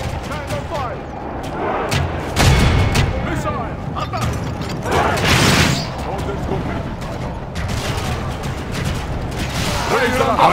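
Missile volleys and artillery fire boom through a siege battle in a video game, with a heavy burst of impact noise and the clatter of war machinery under shouted voices.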